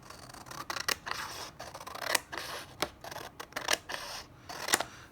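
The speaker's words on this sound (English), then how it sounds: "I'm just going to trim off" Scissors snip a strip from a piece of journal paper, several separate close cuts spaced across the clip with faint rustling between them and no speech.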